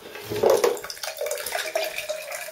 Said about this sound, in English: I'm just draining the water.